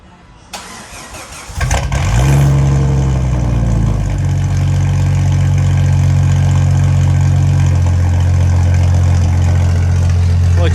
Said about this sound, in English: so that you can hear this new exhaust